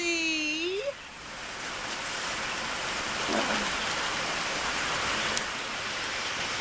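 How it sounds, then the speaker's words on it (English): Steady rain pours down on a homestead in a dense, even hiss, with a brief rising tone near the start and occasional drips standing out. "it's just raining"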